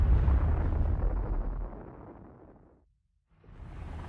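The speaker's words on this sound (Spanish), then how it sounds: "La potencia de la explosión es similar a la de 10 millones de toneladas de TNT" A hydrogen bomb detonation with a force near ten million tons of TNT: a loud, deep rumbling roar that slowly fades to near silence, then a softer wash of rumble returns.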